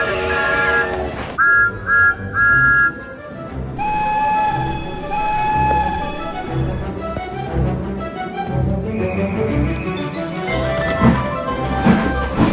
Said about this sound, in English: I think we just heard the guard's whistle.